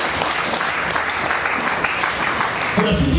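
A church congregation claps together during a Swahili sermon, dense steady applause filling the room at close range, with a voice briefly audible near the end.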